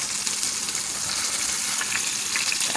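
Steady, dense sizzling of food frying in a pan fills the whole stretch at an even, close level, with no talk over it.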